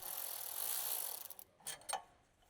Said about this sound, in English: Use a 10mm ratcheting wrench with a T30 bit and electric ratcheting wrench to remove the vehicle's lift